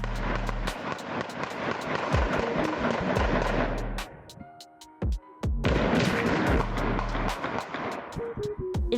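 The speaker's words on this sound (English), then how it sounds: "More than 40 gunshots can be heard." Rapid gunfire of more than 40 gunshots crackles in dense, sharp bursts on surveillance footage, with a brief pause midway before the volley resumes, loud and reverberant over a low background rumble.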